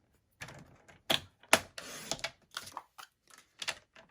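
Paper trimmer slicing through cardstock, a series of sharp, close clicks and scraping rasps as the guard is held and the blade is drawn through, with brief quiet gaps between strokes.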